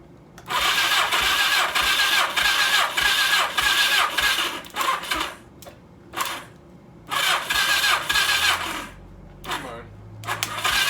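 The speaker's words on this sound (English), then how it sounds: "Okay, let's crank this over." A 1982 Suzuki GS1100 motorcycle engine cranks over in repeated loud bursts of starter whirring, each several seconds long and separated by short pauses, without catching.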